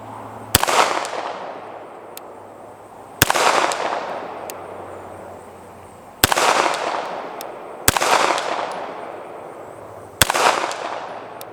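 Five sharp shots from a CZ SP 01 Tactical pistol fired at targets 100 yards out, evenly spaced a couple of seconds apart, each loud crack trailing off into an open-air echo, no talking.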